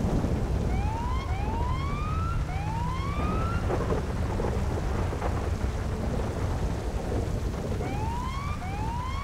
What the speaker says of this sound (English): This rain does not look like it's going to be clearing up at all.